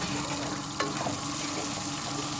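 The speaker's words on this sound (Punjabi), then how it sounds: "ਹੁਣ ਆਪਾਂ ਚੜ ਕਰਾਂਗੇ ਅਦਰਕ ਤੇ ਲਸਣ ਇਹਨਾਂ ਨੂੰ ਵੀ ਚੰਗੀ ਤਰ੍ਹਾਂ ਭੁੰਨਾਂਗੇ" Ginger and garlic fry in a pan of hot mustard oil with a steady, dense sizzle, broken by a brief clatter of stirring near the middle, with no talking.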